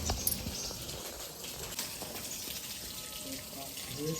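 Water runs steadily from a tap in a village setting as it is collected, a continuous splashing hiss with faint bird chirps in the background.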